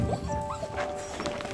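Great Pyrenees puppy gives short high yips and whimpering barks, close and fairly faint, with a quiet indoor background.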